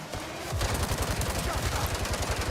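Rapid gunfire hitting an enemy's shield in the video game Gangstar Mirage City, heard as a dense, fast burst of automatic shots with steady loudness and no pauses.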